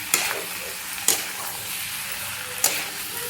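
Potato is stirred into masala in a pan, with three distinct spatula scrapes over a soft background sizzle and no voices.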